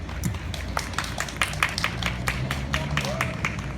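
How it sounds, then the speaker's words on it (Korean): An audience at a regular drum-school recital claps for the next drum performer, a dense patter of hand claps running steadily throughout with voices murmuring underneath. "큰 박수로 다음 연주자분 모셔보겠습니다"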